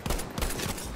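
Rapid, close Selbstlader rifle shots in Battlefield 5, three or four cracks in quick succession within one second, loud over background battle noise.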